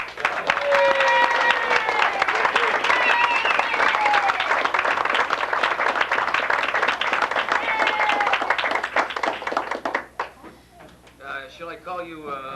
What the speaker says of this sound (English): Let's bring her on with a good round of applause.